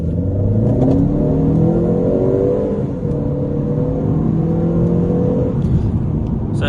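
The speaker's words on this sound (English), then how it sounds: "we're going to accelerate a little bit more hard" A 2014 Mercedes A250 pulls hard under load, its engine note rising in a steady, loud drone heard from inside the car, easing briefly before climbing again, with no talking.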